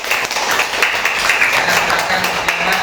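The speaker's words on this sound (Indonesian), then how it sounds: "tepuk tangan juga untuk kelompok 1" Classmates in a classroom applaud group 1 with a dense, continuous patter of clapping, loud and close throughout.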